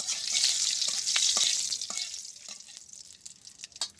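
Bay leaves and whole cumin sizzling in mustard oil in a kadai: a loud, bright crackling hiss that settles down, with scattered pops and a few utensil taps.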